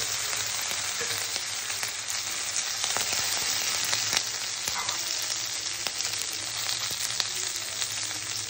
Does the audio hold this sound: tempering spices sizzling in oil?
yes